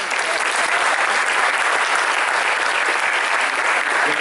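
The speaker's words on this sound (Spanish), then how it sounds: "¿Cuánto le damos un aplauso para eso?" An audience at a CPA marketing event breaks into sustained, even applause, a loud, dense wash of many hands clapping throughout.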